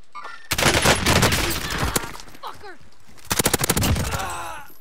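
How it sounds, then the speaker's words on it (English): Rapid bursts of gunfire in a trio battle royale shooter game, a dense volley that fades to a few scattered shots, then a second sharp burst of several quick shots near the end; voices talk in between. "Yeah, start shooting"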